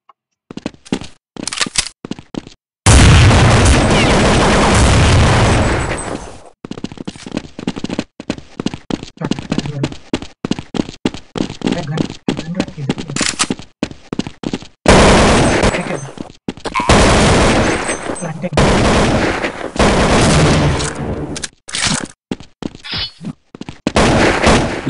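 Rapid bursts of automatic gunfire and single shots in Counter Strike 1.6 on the Dust 2 map, loud and close, with dense volleys broken by short pauses across the whole stretch.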